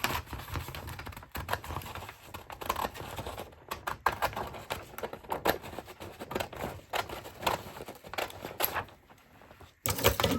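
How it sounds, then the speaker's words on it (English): Scissors cut a sheet of paper down the middle for a junk journal, giving a series of irregular crisp snips and rustles close to the listener, with short pauses between cuts. "I'm just going to cut this down the middle."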